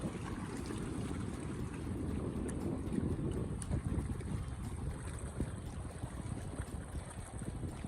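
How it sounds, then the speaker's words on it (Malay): Fishing motorboats heading out to sea from a fishing platform harbour: a continuous low engine drone blended with wind buffeting and water wash, moderately distant and steady with no talk. "Ada beberapa buah motor yang pergi cari rezeki nelayan"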